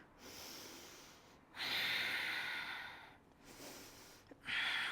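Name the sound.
deep breathing during side plank yoga pose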